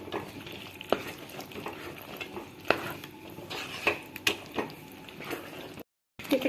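Spoon stirring peas into simmering paneer masala gravy in a pan, soft bubbling and wet scraping with scattered light clinks of utensil on metal, close and quiet, with a brief dropout near the end.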